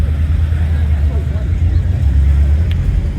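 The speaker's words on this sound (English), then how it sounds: "let's hear that Abarth. You want to hear a good engine? Here it comes." A Fiat Abarth engine and exhaust drone steadily with a deep, rumbling low end, running continuously at close range for the whole stretch.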